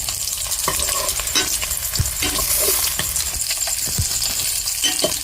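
Fish fry in hot oil as they are stirred and turned in the pan, giving a constant loud sizzle broken by frequent scraping and clinking of the utensil against the metal, close up and with no speech.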